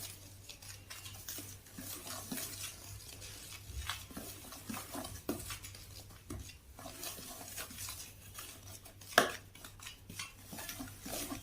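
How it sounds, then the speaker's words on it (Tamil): Homemade detergent ingredients being stirred together in a bowl, heard as soft repeated scraping and gritty swishing close by, with light clinks and one sharper knock near the end, all quiet and with no talking. "இப்படி பண்ணி நல்லா மிக்ஸ் பண்ணி விட்டுருங்க"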